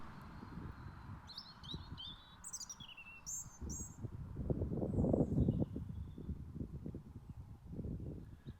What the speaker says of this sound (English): You can hear a robin in the background and traffic on the road